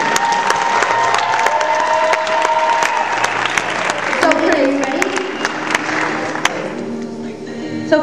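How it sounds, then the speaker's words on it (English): Audience applause with some cheering for guests at a Mr. Coronado event, steady and loud across the clip with occasional shouts and what sounds like music or voices underneath, thinning toward the end. "one more applause for these guys"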